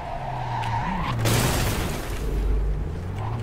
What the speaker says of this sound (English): Okay, this drifting is a little different.